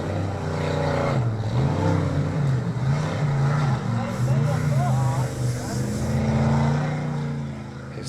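A formula offroad race car engine at an Icelandic Formula Offroad event drones loudly and steadily throughout, rising and falling in pitch under continuous commentary.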